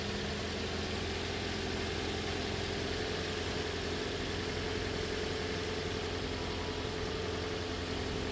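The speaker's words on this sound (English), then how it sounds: "Alright, so car is on." A 2014 Toyota Corolla engine idles steadily after a battery replacement, a constant low hum with no change in pitch, close by and with no voices.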